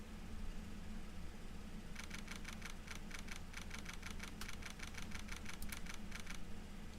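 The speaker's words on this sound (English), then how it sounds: "I like the little typing sound" Rapid, evenly spaced blips of a text-typing effect in a courtroom-style video game tick out in a steady stream for several seconds over a low background hum, with no voices.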